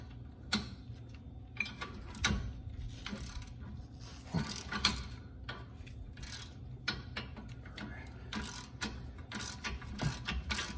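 A ratchet clicks repeatedly while turning a caliper bolt on the front brakes of a Mercedes GLK, close metallic ticking in uneven bursts with occasional tool clinks over about eleven seconds.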